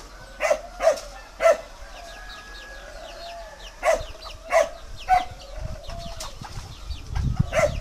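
Fighting cock roosters on a Vietnamese farm crow repeatedly in short bursts, several calls overlapping from nearby birds, with occasional thumps and rustling between them.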